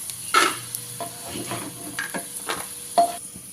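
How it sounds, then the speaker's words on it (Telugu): Green chilies and curry leaves fry in oil in a pan while making bendi masala rice, giving a soft sizzle under stirring clatter, with a few sharper spoon scrapes and taps across a short stretch. "తర్వాత పచ్చిమిర్చి కరివేపాకు వేసుకొని ఫ్రై"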